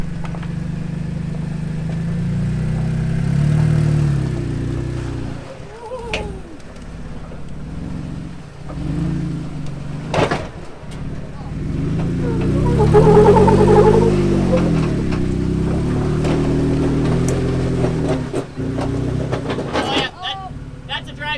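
A Jeep on 42-inch tires crawls over rocks on the Rubicon Trail, its engine rumbling low and revving in surges, with knocks and thumps from the terrain and people talking over it.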